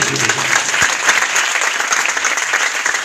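A loud, sustained burst of crowd applause at a Christian worship night in a village, steady dense clapping that fills the whole stretch with no break.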